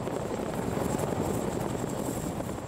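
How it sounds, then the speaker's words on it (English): A Chinook twin-rotor helicopter maneuvering into position with its front and rear rotors, a steady, dense, loud rotor and engine roar that holds unbroken throughout. "And that's how the Chinook gets into position to deliver its loads"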